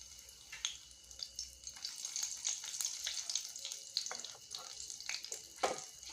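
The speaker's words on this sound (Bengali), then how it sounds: "মাছ ভাজার তেলের মধ্যে আমি কালো জিরে আর দুটো কাঁচা লঙ্কা চিড়ে নিয়েছি," Nigella seeds and two slit green chillies temper in hot oil left from frying bata fish, giving a steady close sizzle with scattered sharp crackles and pops that build toward the end.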